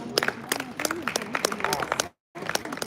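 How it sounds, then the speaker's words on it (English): Audience at a Lagos real estate marketplace conference clapping, a short burst of scattered hand claps with a voice among them, cutting out briefly before resuming. "Can you give me a round of applause, please?"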